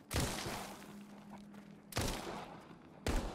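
Gunfire from guns in the VR zombie shooter Arizona Sunshine, three loud sharp shots, the first followed by a long ringing decay, then two more spaced about a second apart, with no talk.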